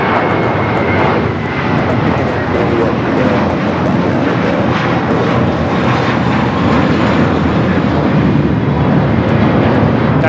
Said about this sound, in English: That is American Airlines Flight 32 taking off to JFK on the A321.